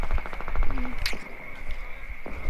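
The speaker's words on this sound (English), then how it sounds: "And there's a lot of gunfire." Gunfire in the video game Fortnite, a quick rhythmic burst of rapid shots at the start, then a sharp single crack and a few scattered pops over a steady tonal hum.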